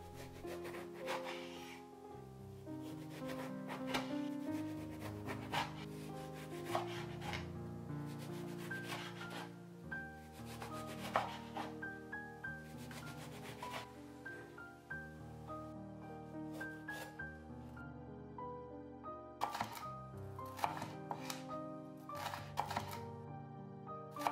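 A knife cuts summer vegetables into small pieces on a board: repeated sharp, uneven strokes, close and fairly quiet, over steady background music.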